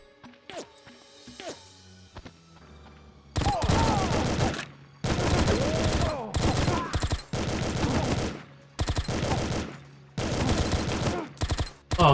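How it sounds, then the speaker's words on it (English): Sniper gunfire rings out in The World is Not Enough shooter game. A few sharp isolated shots come first, then long loud bursts of rapid fire that are separated by brief pauses. "I see we're getting sniped at."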